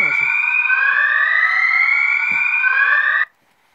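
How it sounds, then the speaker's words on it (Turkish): A loud, steady electronic alarm tone from a clock add-on for the NVDA screen reader sounds continuously for about three seconds, then cuts off abruptly into silence. "Alarm kurduğumuz zaman bu sesle çalacak yani."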